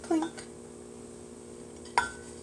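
Instant oats toasting in a pan give off two brief, sharp clinks about two seconds apart against a quiet kitchen background.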